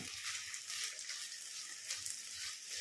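Sliced onion frying together with jackfruit seeds in a hot pan, a steady bright sizzle that runs unbroken and evenly throughout, close by, with no voices.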